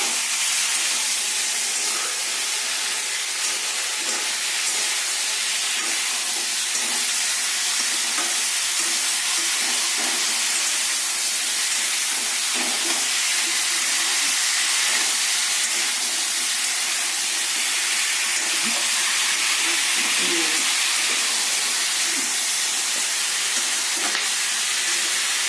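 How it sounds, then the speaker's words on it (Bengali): Chopped tomatoes sizzle steadily as they are stirred and fried in a pan for a flat bean dish with ground peanuts, a continuous close hiss with no talk. "ভালো করে নেড়ে ভাজা করে নেব।"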